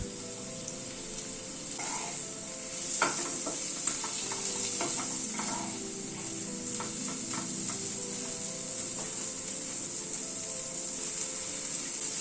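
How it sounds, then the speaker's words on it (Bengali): Chopped tomato being stirred into frying ground spice masala for a Coorg-style paneer masala curry, a soft steady sizzle under scattered scrapes and taps of a spoon against the pan, close and quiet with no talk. "টমেটোটা দিয়ে একটু নাড়াচাড়া করে ঢেকে দিচ্ছি"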